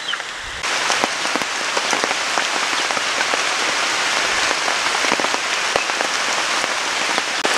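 Heavy monsoon rain falling outside, a dense, steady hiss of drops pattering on surfaces close by with scattered louder splashes, continuous throughout with no voices.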